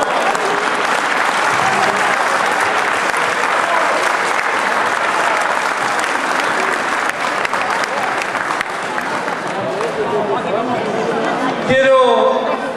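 A large audience at a Father's Day event claps for the mothers, a dense, steady wave of applause with some crowd chatter mixed in, close and loud, fading slightly before a brief louder burst near the end.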